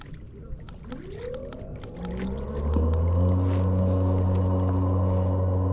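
Bixpy electric motor on a Bote Deus Aero 11 inflatable kayak, running in reverse: a whine sweeps upward, then settles into a steady, loud electric hum with layered tones, while clicks and water sloshing sound nearby.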